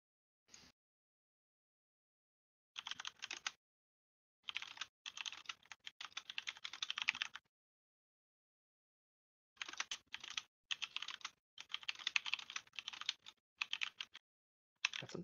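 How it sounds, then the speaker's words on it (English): Fast typing on a computer keyboard, close up, in several bursts of rapid clicking separated by silent pauses, with no voices. "Got some typing going on."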